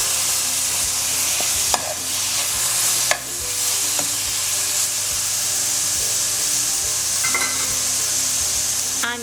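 Chicken sizzles and spatters steadily in a hot pan, a bright continuous hiss with occasional sharper crackles and a few clacks of a utensil.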